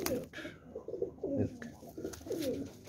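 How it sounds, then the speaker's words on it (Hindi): A Shikra breed pigeon in a pet pigeon pair coos softly at close range, several low throaty calls in uneven succession under faint background noise. "ये देखें मेरा शिकरा कबूतर है"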